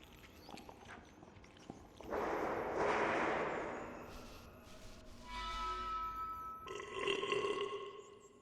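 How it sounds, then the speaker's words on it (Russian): A ghost's long, booming burp rolls and echoes through a school building in the horror video game DreadOut, rising loudly after a quieter stretch, with no one talking. "А следом по всей школе эхом прокатывается богатырская отрыжка."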